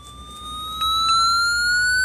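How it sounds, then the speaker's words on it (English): A steady, piercing weather radio warning alert tone sounds continuously, loud and unwavering, with a faint low hum beneath it. "and then you will get your weather warning"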